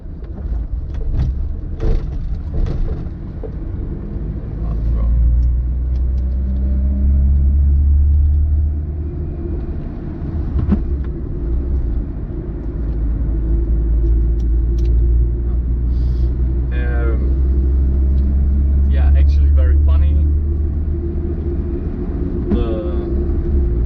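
A 1992 Fiat Cinquecento 900 drives along, its small engine droning low with a steady road rumble that swells and eases with speed, while someone talks over it at intervals.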